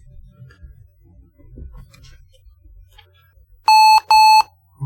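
A Lenovo ThinkPad laptop under repair with a black screen gives two loud, evenly spaced electronic beeps near the end, each about a third of a second long, after a stretch of faint low handling noise.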